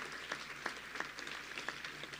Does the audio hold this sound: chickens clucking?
no